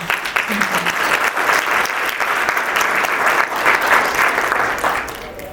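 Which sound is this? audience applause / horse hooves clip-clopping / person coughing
audience applause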